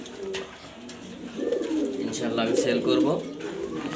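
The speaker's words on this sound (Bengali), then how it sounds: "খুবই সুন্দর টপ কোয়ালিটি কবুতর আফসান গ্রিজেল, আফসান বাগা গ্রিজেল" Afsan Baga Grizzle pigeons coo in a low, rolling murmur that swells in the middle, with someone talking over them throughout.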